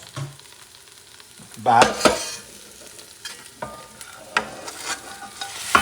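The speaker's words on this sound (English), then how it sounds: "now I'm going to add the oxtails" Oxtails being stirred in a hot pan give a low sizzle with sharp scraping and clinking bursts from the utensil, plus a brief spoken word.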